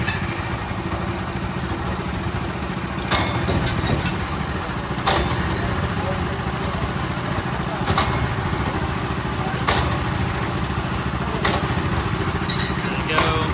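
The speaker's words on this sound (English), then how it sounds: "They're pulling up the drills right now." A drill rig engine runs steadily at a bell-bottom pier foundation repair site as the crew pulls the drills up, a loud continuous mechanical drone with periodic sharp clanks over it.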